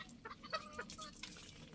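Several hens cluck softly in quick, uneven bursts, fairly faint and close together, with no one speaking.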